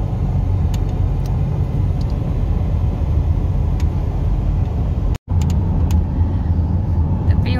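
Steady loud road rumble from inside an RV cruising on a highway, a continuous engine and tire drone with one brief dropout near the end.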